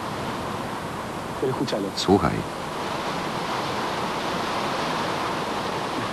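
Steady broadband wash of ocean surf rolls on continuously at moderate level, with a brief spoken word from one person near the start.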